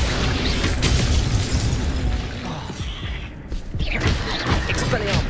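Spell casting in the video game Hogwarts Legacy, the Accio pull charm, with a loud burst, crash and whooshing effects layered over dense game sound for several seconds.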